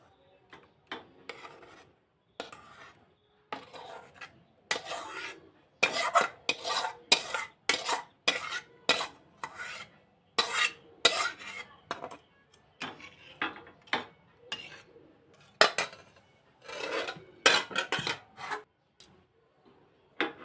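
A spoon scrapes and rasps against a metal pot as freshly cooked payesh is transferred into a bowl resting on a plate, in repeated close-up strokes with short pauses between them.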